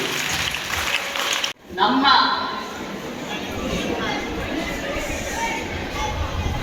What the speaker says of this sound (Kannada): ಜೋರಾಗಿ ಚಪ್ಪಾಳೆಯೊಂದಿಗೆ ಕಾರ್ಯಕ್ರಮವನ್ನು ಯಶಸ್ವಿಗೊಳಿಸಬೇಕಾಗುತ್ತದೆ.